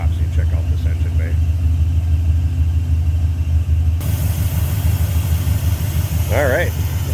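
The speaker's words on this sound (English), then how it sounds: "you can hear that turbo with the hood open. Little hair dryer effect" A turbocharged engine in a 1981 Pontiac Firebird Trans Am runs with the hood open, giving a steady, loud low rumble with an airy turbo whoosh and a brief rising whine near the end, up close with no talk over it.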